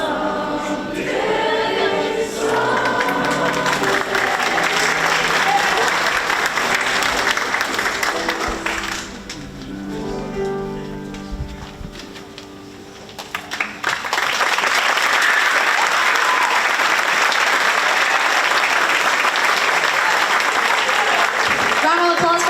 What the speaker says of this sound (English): Round of applause for our two soloists, please.